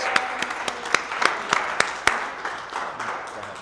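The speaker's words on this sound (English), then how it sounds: "let's give a huge applause for Cheryl Holt" A small room of real estate agents claps for a presenter, a sparse group whose separate sharp hand claps stand out in a loose rhythm before fading into softer, scattered clapping.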